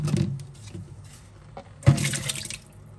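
Tap water runs over beef liver that was soaked in milk, rinsing it at a kitchen sink; a steady splashing stream with a louder gush of water partway through.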